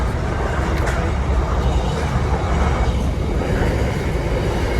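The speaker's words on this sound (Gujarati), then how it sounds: "અત્યારે ઠેઠ ટ્રેન આવી છે મોડી મોડી." A long train passes close by at a railway level crossing near Savarkundla: a loud, continuous rumble of wagons rolling by, with faint wheel clatter throughout.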